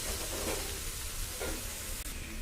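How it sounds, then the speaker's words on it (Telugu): Boiled potatoes fry in a pan with a steady, close hiss of sizzling oil, broken by a couple of soft stirring scrapes. "వాటిని కూడా వేసుకొని ఫ్రై చేసుకుందాం"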